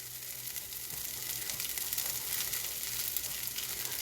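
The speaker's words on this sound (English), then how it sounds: "we're going to add our bacon" Bacon sizzles and spits in a hot stainless steel pan, cooking for fried rice with salmon, a steady close crackling hiss with no voices over it.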